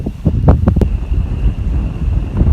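Loud, gusty wind buffets the microphone out on the water during a multi-species fishing tournament, a steady low rumble with sharper bursts and no talking.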